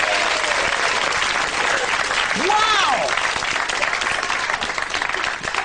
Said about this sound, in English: He's done it! Give him a clap!